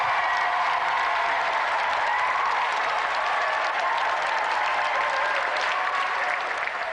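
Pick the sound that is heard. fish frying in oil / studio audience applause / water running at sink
studio audience applause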